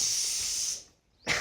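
A pressure cooker in a home kitchen lets out a loud, steady steam hiss that runs for most of a second before cutting off, then a brief second burst of hiss follows after a short pause.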